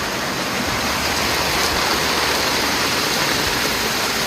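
Heavy rain pouring down steadily at close range, a dense continuous wash of noise with no pauses and no voices over it.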